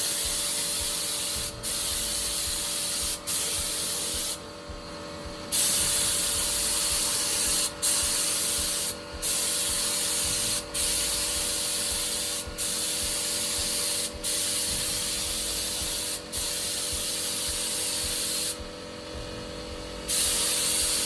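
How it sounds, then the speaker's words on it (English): A spray gun hisses steadily while laying a final smooth finish coat on overhead cabinets, in repeated loud bursts broken by short pauses for several passes. "then I'll be spraying the final coat on to get a nice smooth finish."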